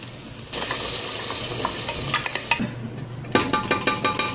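A blended liquid mixture pours into toasted rice in a clay pot, turning the dry sizzle into a wetter bubbling hiss, followed by a few spoon stirs and clinks against the pot.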